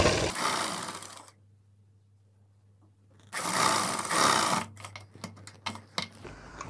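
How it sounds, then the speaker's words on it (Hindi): A sewing machine runs in two loud bursts stitching a folded salwar waistband, with a quiet pause between and short stop-start stitching taps at the end. "इधर का फोल्ड करके इस साइड में हमें सिलाई लगानी है"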